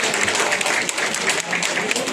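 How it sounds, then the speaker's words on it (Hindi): A crowd at an awards ceremony applauds with dense, steady clapping that fills the short stretch without a break. "बहुत जोरदार तालियों से स्वागत किया जाए"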